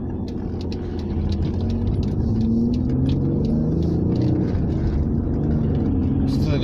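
Alfa Romeo 156 V6 car engine driving at low speed in a 30 limit, a steady rumbling drone with shifting engine tones, continuous and close throughout.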